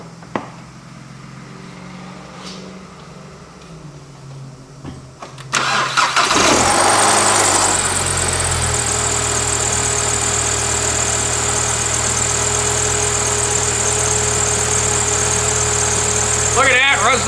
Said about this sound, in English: So we'll fire it up here real quick and confirm that it works.